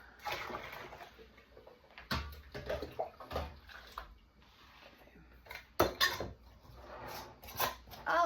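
Kitchen sink dishwater sloshes and runs while dishes, pots and cutlery clatter intermittently in the basin, with sharp clanks scattered among softer watery splashes, heard close and fairly quiet with no talk.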